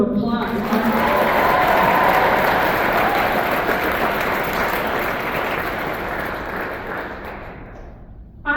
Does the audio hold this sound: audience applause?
yes